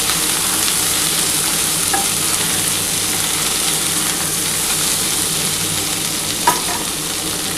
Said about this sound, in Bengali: আলু, কাঁচকলা, পটলটা কিন্তু ভাজা মোটামুটি হয়ে গেছে। এবার এর মধ্যে আমি কাঁচা ছোলাটা দিয়ে দিচ্ছি।